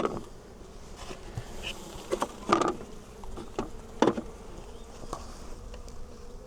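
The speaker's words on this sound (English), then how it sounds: "A lot of bees in there." Bees buzz close to the microphone in an open hive, a busy droning with scattered louder passes and soft clicks and creaks among the insects.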